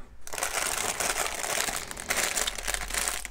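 Foam wrapping around the main hull of a Flyhawk 1/700 HMS Formidable model ship kit crinkles and rustles up close during unboxing, a continuous irregular scrunching with no talking.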